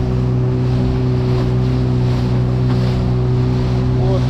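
A motorboat engine drones steadily and loudly as the boat rides through big waves, water crashing and sloshing against the hull, with wind buffeting the microphone throughout.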